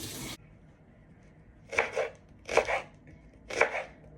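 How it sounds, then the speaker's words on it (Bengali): Onion being chopped on a board: a short scrape, then three separate bursts of quick knife strokes spaced about a second apart, close and moderately loud. "আমি পেঁয়াজ ভালো করে কাটতে পারি না কুচি করে"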